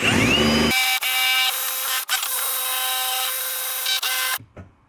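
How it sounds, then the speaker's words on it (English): A power drill whines loudly and steadily as it bores sideways through a plastic Mustang bumper, with brief dips in pitch before stopping abruptly near the end. "We're just going to use the drill bit and go sideways."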